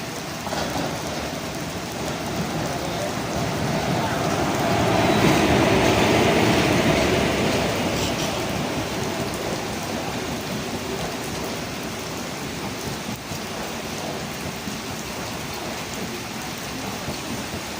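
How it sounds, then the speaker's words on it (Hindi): A Janshatabdi LHB train pulls into platform 2 with a loud sustained rumble that swells to a peak midway and then settles into a steady roar, with no talk over it. "हमारी ट्रेन का अराइवल प्लेटफॉर्म नंबर 2 पर वेब 4 के साथ में हो रहा है"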